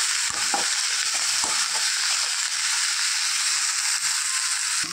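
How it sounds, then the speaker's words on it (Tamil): Ponnanganni keerai greens stirred and frying in a pan, a constant close sizzle with scraping spatula strokes across the pan, alone without talk. "நல்லா கிண்டி விட்டுக்கோங்க. இப்போ நல்லா வதங்கிருச்சு."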